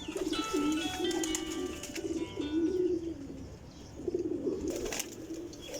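Pigeons coo repeatedly and close by in an outdoor setting, soft throaty calls rising and falling over a steady background hiss, with faint chirps from other birds.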